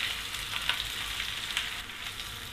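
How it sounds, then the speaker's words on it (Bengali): Carrots sizzle steadily in a hot pan as the first step of a chow mein. The hiss is constant and fairly close, with small crackles and no voices. "গাজরগুলো দিয়ে আমি 2 মিনিট মতো একটু ভেজে নিলাম"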